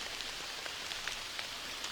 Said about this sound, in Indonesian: Tapi ini hujannya masih rada-rada gerimis teman-teman